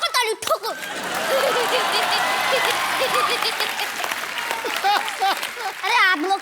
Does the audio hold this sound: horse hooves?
no